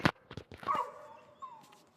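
Street dogs scuffling with each other: a few sharp barks followed by whining yelps and a drawn-out whimper, fairly faint and with no one speaking.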